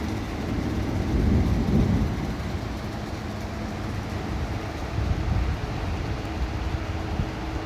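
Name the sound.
heavy rain and thunder as tornado approaches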